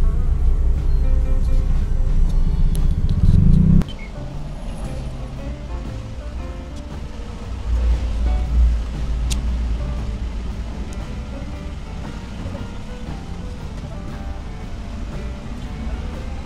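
A 2013 Toyota Avanza G with a 1300 cc VVTi engine idles while waiting in a queue at a fuel station, a steady low rumble heard from inside the car, with a louder stretch near the start and a faint click midway.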